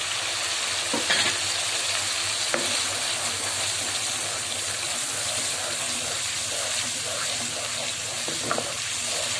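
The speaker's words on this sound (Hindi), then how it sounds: "थोड़ा थोड़ा दही शामिल करके हम इसको भूनेंगे मसाले को" Fish curry masala fries in oil as yogurt is added and stirred, a steady close sizzle with occasional scrapes of the spoon, no voices.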